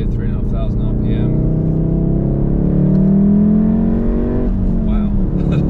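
A 400 bhp stage 2 VW Golf R with a manual gearbox pulls hard in third gear from around 3,500 rpm, its engine note climbing steadily and loud from inside the cabin, with no talk over it.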